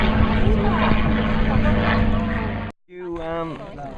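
A P-51 and a P-40 propeller warbird fly overhead with a loud, continuous droning engine roar that cuts off abruptly, followed by a fainter aircraft drone as people talk.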